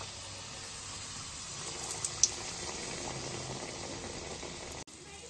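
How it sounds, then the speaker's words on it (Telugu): Coconut burelu frying in hot oil, a steady soft bubbling sizzle with a couple of small pops, then a brief cut near the end. "ఇప్పుడు మనం వేసుకుందాము ఆయిల్లో"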